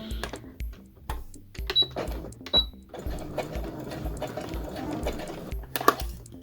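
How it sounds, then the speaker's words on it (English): A domestic sewing machine stitches fabric along a marked line in short bursts and a longer steady run, with rhythmic mechanical clatter and small clicks up close. "we'll go to the machine and stitch"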